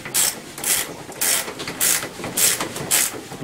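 A ratchet wrench tightens a bolt during assembly of a Tao Tao ATM50A scooter, clicking in quick bursts at a steady rhythm of about seven strokes, close and clear with no talking.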